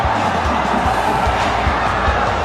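A packed MPBL basketball arena crowd roars loudly and continuously at the end of Game 3 of the South Division Finals between Batangas and Zamboanga.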